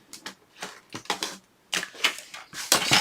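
Sheet of paper trimmed down to 3 3/4 by 8 inches, a series of short crisp clacking cuts in quick bursts with brief pauses, close and alone.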